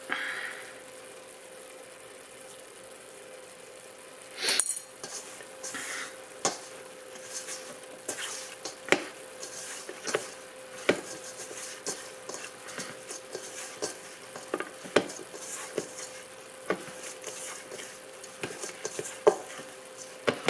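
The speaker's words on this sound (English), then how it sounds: "I still have my meat on the stove, sauteing, cooking down, browning." Meat sautéing and browning in a pan on a home stove gives a soft, steady sizzle, broken by frequent clicks and taps of stirring utensils and a faint background hum; no one speaks.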